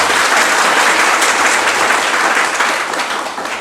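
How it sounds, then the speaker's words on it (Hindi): Dense, sustained applause from a seminar audience at an engineering interaction session, a steady wash of many hands clapping together that stays loud and full before easing slightly toward the end. "फिर से ताली बजाइए"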